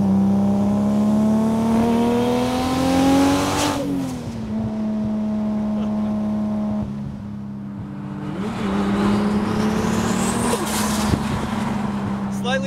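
A Nissan Skyline R32 GTR built to about 800 horsepower, its engine droning loud and close with rising and falling revs and a clear gear change, under a voice talking.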